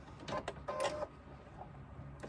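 A sewing machine stitches a 3/8 inch seam through a lined fabric crossbody bag, giving two short mechanical bursts of whirring stitches, close and moderately loud, with a faint hum between them.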